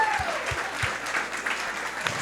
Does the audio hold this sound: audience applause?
yes